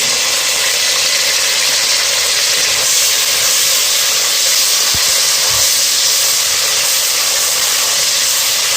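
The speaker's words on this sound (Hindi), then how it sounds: "तेल फौरन गर्म हो गया। अब इसमें प्याज डाल दें।" Steady, loud sizzling hiss of onions frying in hot oil for aloo gobi, a dense continuous crackle with no talking.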